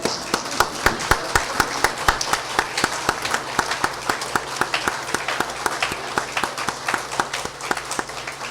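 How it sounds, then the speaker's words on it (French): A standing audience at the opening of a law fair, the Salon du Droit, applauds steadily for several seconds, dense clapping filling the room with a few louder individual claps punching through near the front. "je vous demanderai de bien vouloir vous lever pour applaudir cet homme, ce vaillant homme"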